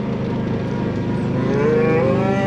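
Cattle mooing on a farm, a long, loud, close low call that holds steady and then rises in pitch toward the end, heard alone with no talk over it.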